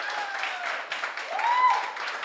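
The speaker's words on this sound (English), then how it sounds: "clap if you've seen me before" Audience clapping at a stand-up comedy show, a scattered, moderate round of hands from part of the room, fairly near, with faint voices and whoops rising above it midway.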